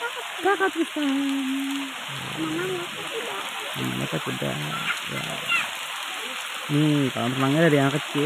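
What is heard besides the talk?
rain falling at a swimming pool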